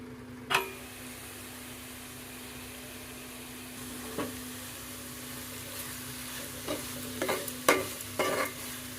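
Pumpkin halwa with jaggery and cashews cooking in a pan, a low steady simmer under occasional sharp scraping stir clicks that cluster toward the end, with no voices.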